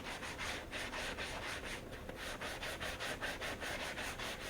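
A brush rubs wax over game balls for an equipment manager, making a steady, close, rhythmic scrubbing rasp with repeated back-and-forth strokes and no talking.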